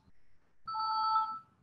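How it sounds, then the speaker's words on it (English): An electronic timer alarm sounds near the end of a lecture, giving one short, clear, steady tonal ring of a bit under a second in an otherwise quiet room. "I guess that's my alarm telling me that 40 minutes is up."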